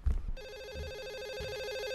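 A telephone rings upstairs in a horror video game, a steady electronic trilling ring that starts after a brief low rumble and carries on continuously without voices.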